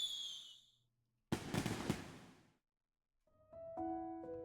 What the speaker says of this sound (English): the fireworks display is almost over.